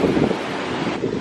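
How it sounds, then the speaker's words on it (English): Wind buffeting at a Hawaii beach, a short burst of loud low rumbling gusts with surf-like wash and no voices. "It's probably really windy and loud"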